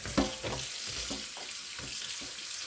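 Buttered fettuccine and its hot cooking water poured from an old pot into a colander, a steady close rushing splash and gurgle throughout with no talking.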